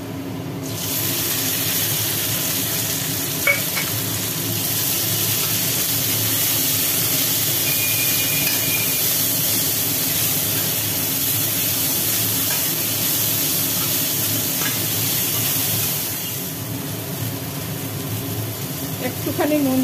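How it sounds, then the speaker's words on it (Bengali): Water spinach (kolmi shak) frying in a hot pan with a steady, loud sizzle and hiss that fills the whole stretch, with faint stirring scrapes now and then. "ভাজা হয়ে গেছে, শাকটা দিয়ে দিলাম।"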